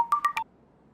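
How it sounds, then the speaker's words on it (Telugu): An incoming call on a phone in a film scene sounds as three quick, bright melodic ringtone beeps in about half a second, then the room falls quiet. "మా అబ్బాయి ఫోన్ చేస్తున్నాడు."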